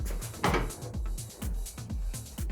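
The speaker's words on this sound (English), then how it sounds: "Can I still open my door?" A Toyota Corolla KE55 door is opened beside freshly fitted fender flares, a short burst of mechanical clunks, clicks and latch rattles heard up close, with no talking.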